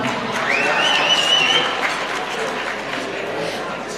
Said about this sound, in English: let's applaud to them as they are taking a photo